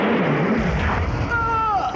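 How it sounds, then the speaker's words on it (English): Gunfire at an alien creature in a 1985 sci-fi movie: loud, dense booming shots rolling together for two seconds, with a high whining tone rising near the end. "Why are those fools shooting at the creature?"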